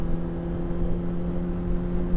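Steady, droning engine hum of a Honda CBR600RR motorcycle on a test ride, a continuous tonal whine holding level throughout with no talk.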